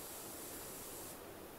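Pressure washer in PowerWash Simulator sprays into a bucket at a mini-golf castle, a steady broad hiss of water that runs unbroken and fairly faint for under two seconds, with no talk.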